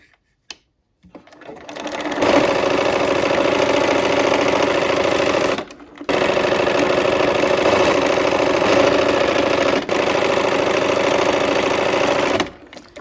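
A sewing machine stitches a quarter-inch quilt seam in loud, steady runs, starting after a quiet moment, pausing briefly midway, then running on before stopping near the end.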